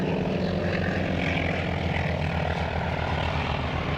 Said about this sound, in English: All these aircraft in the air show.